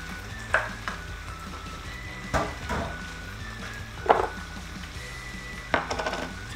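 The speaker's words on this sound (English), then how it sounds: "I've just boiled some rigatoni pasta on the side that I'm just going to add in." Boiled rigatoni pasta being stirred into a garlic butter sauce in a pan, a low sizzle under four distinct scraping stirs and clunks of a utensil against the pan, close and without speech.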